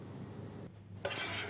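A metal utensil scrapes a cooking pot that held strawberry latte agar pudding, a short rough scrape and clink up close with no talking.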